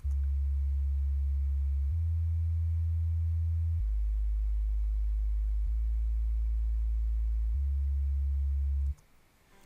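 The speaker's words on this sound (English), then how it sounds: "First, we have a sub-bass." A deep, steady sub-bass synth tone that changes pitch slightly every couple of seconds, sustained and alone, ending abruptly near the close.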